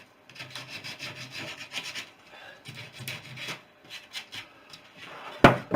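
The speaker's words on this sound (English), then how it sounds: "quick whiz around with a bit of 120 around the edge of the holes" Hand sanding around the edges of holes cut in a wooden wing part with 120-grit sandpaper: brisk, close scratchy rasping in short repeated strokes, a few bursts with brief pauses, ending in a sharp knock.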